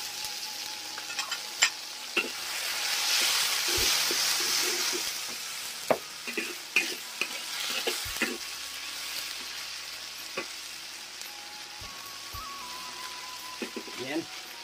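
Sour bamboo shoots sizzle in a hot wok while a spatula scrapes and clatters in irregular strokes, close and continuous.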